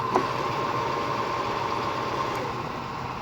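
A Cincinnati 13 by 30 inch engine lathe motor runs in reverse, giving a steady mechanical hum with light vibration that holds evenly throughout, with no talking.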